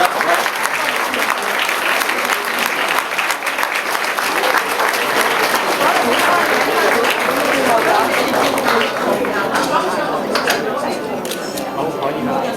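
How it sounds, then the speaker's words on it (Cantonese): Wedding guests at the ceremony applaud the couple with sustained, energetic clapping from a crowd, lively and close, with camera shutter clicks and scattered chatter and talk mixed in. "好，大家俾啲掌聲啊！ 鼓勵啦！"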